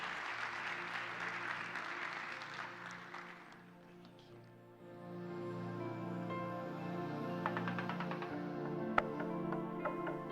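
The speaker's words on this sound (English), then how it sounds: "Big round of applause for the panel." An audience at a panel session applauds, a dense wash of clapping that eases briefly and then swells again, with no talk over it.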